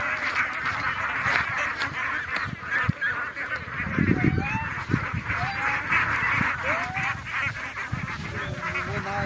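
A flock of domestic ducks quacks and honks close by, their loud calls overlapping in a busy, continuous chorus over outdoor background noise.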